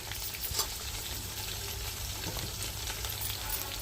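Chicken legs fry in hot oil with green chilies, mint and coriander, giving a steady, dense sizzle that stays even throughout, close up and with no talking.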